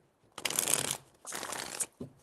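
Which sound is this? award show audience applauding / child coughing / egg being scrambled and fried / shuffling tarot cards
shuffling tarot cards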